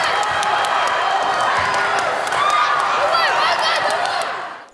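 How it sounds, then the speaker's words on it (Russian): Fans cheer and shout in a school sports hall during a tug-of-war event, a loud, continuous crowd of overlapping voices and whoops with scattered claps, fading out at the end. "В зале перекликаются голоса болельщиков, в первых рядах которых тренеры и родители."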